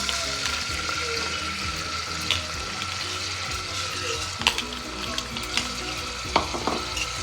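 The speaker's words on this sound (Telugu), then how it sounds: "ఇప్పుడు మనం ఆనియన్స్ వేసుకుందాం." Onions frying in hot oil for Telangana-style mutton curry, a continuous loud sizzle with intermittent stirring scrapes and clinks of a spoon against the pan.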